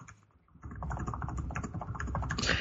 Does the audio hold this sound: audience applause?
no